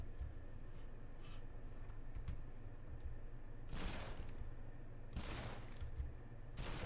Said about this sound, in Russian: Вот это выстрел.